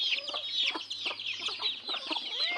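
Backyard chickens clucking in short, repeated bursts at close range, with chicks peeping and a steady low hum running underneath.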